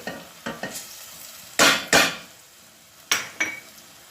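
Vegetables and salami fry in a pan with dry marjoram, a spatula stirring in loud, separate scraping strokes over a soft background sizzle.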